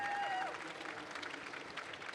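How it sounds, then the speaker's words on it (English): Brief audience applause for a panel at a gaming event, a faint wash of clapping from a crowd lasting a couple of seconds after a short tone. "Please give them a round of applause."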